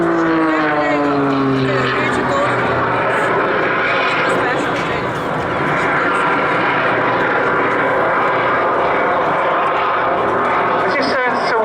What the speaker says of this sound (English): It just sounds so weird, hearing that jet engine